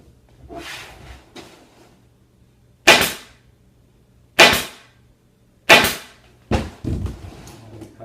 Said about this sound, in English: I'm going to put it up on top of the board like this, and I'm going to staple it down.